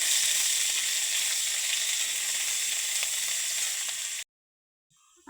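Onion paste hisses and sizzles loudly as it hits hot oil in a pan, a dense steady crackle lasting about four seconds before cutting off abruptly into near silence.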